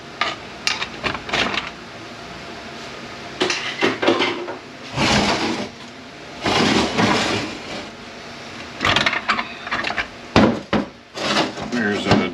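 The pump being pushed out of a ZF6HP21 automatic transmission during disassembly gives repeated bursts of knocking, scraping and clattering metal, spaced by short pauses.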